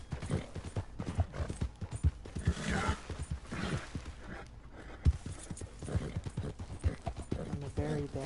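Horse hooves clip-clopping at a gallop in the Red Dead Redemption II video game, a steady rapid beat with creaks and an occasional whinny, running under frequent talking throughout.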